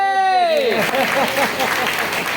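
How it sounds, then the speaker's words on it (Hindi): Audience clapping at a public gathering, a short burst of mixed applause following a fading tone, with faint voices beneath. "ताली बजाइए।"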